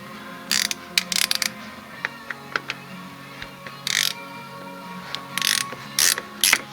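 A hand ratchet snaps in several short, close bursts of clicking as it tightens the fill plug on a vehicle's differential or transfer case, with quiet gaps and small knocks between strokes.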